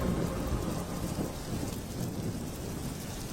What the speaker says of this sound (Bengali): কাপড় তুলতে তুলতে অমনি হুড়মুড়িয়ে বৃষ্টি চলে এলো।